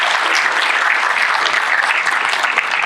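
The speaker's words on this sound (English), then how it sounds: "So please give a big round of applause for GDG Gandhinagar." A DevFest Gandhinagar 2023 conference audience applauds, a loud, dense, continuous burst of many people clapping together with no break.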